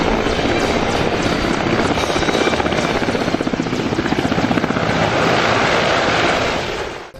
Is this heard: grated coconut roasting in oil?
no